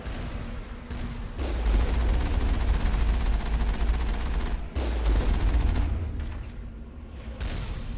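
Gunfire while destroying turrets in Mass Effect: loud, continuous heavy firing with a deep rumbling base, breaking off briefly and resuming, without talk.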